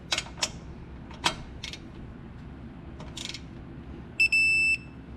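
A digital torque wrench set to 40 foot-pounds, used on front brake work on a 2017 Ford Fusion, gives off a steady electronic beep. It holds for about half a second after a short chirp, over faint clicks and background room noise.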